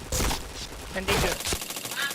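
Rapid video game gunfire crackles in bursts during an online war match, with sharp shots clustered near the start and again around the one-second mark, a voice talking briefly under the shooting.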